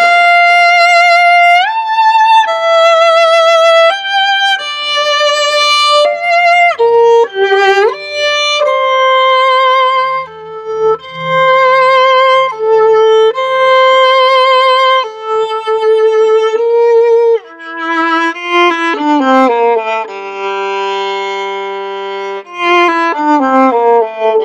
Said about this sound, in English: So at one point you do get to hear the concertmaster play on her normal instrument,